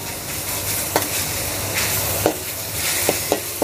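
Minced pork fries in a pan for a Thai basil stir-fry, producing a loud, steady sizzle close up, punctuated by several crisp spatula scrapes and taps against the pan, with no one speaking.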